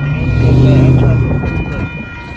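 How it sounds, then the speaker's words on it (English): A northbound Union Pacific freight train of hopper cars passes close by at a road crossing in Austin, Texas, a loud low rumble with wheel clatter and a steady tonal hum that fades slightly toward the end. "let's check out this Northbound Union Pacific hopper car train that's about to pass by."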